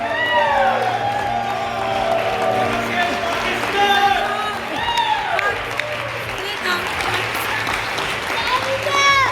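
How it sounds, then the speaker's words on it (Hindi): Audience applause fills a hall at the end of a short film screening in Berlin, with steady clapping and cheering running throughout, mixed with crowd voices and a sustained musical tone underneath. "हाल स्पेशल खिलाड़ी सना की मौजूदगी और सताइश के लिए तालियों से गूंजता रहा।"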